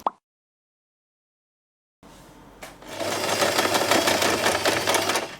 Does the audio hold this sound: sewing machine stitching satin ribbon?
yes